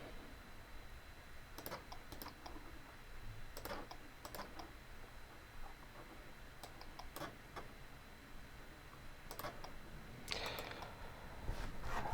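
Someone types a birthday into a computer form, with short clusters of quiet keyboard clicks spaced a few seconds apart over a soft steady room hiss. A slightly busier burst of keystrokes comes near the end.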